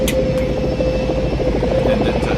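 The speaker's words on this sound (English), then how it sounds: "The helicopter then swerves a bit" A helicopter swerves in flight, its steady, loud rotor and engine roar filling the whole short stretch close by, with a faint throbbing beat running through it.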